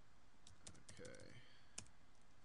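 URL typed on a computer keyboard during a CentOS web server install: a quick burst of light key clicks, quiet and close, with no speech.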